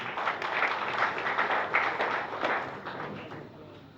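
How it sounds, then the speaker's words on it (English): Audience applauding at a film audio release party, a steady wash of clapping from a crowd that fades slightly toward the end, heard without speech. "A round of applause for Mr."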